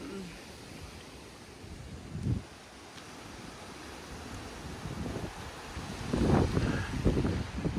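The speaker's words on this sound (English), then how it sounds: "It's really windy out here" Steady wind roars across the microphone with buffeting gusts over 80 kilometers an hour in the Bay Area during severe weather, growing stronger and rougher toward the end; no one speaks.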